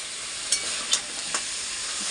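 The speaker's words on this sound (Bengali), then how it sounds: "এখানে মাটনটা কষানো চলছে" Mutton sautés in a wok with a steady, close sizzle. A few brief scraping stirs sound over it, with no voices.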